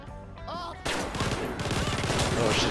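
Rapid gunfire bursts during a store hold-up in the game GTA V, loud and dense over several seconds, mixed with a raised voice early on.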